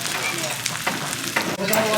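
Bibimbap sizzles and crackles steadily in a hot pan at a Korean restaurant, a dense close hiss with a few clinks of utensils, no voices.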